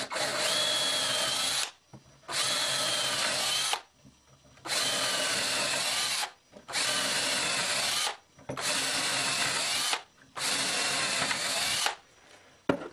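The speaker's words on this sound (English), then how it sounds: "just come on with my holes and drill all 6 of them here" A power drill bores six holes in wood for a bridge build, with loud whining runs of about a second each separated by short pauses, close up and with no talking.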